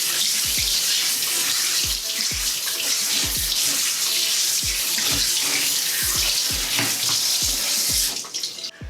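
Kitchen tap water running steadily over blanched daikon to cool it, a continuous close splashing stream with intermittent knocks and thuds in the sink, stopping near the end.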